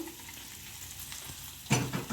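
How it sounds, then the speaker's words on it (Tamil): Hot oil is poured into lemon pickle, giving a soft steady sizzle that swells into a sudden louder crackling burst near the end. "இன்னும் கொஞ்சம் எண்ணெய் ஊற்றி கொதிக்க வச்சு ஊற்றிக்கலாம்"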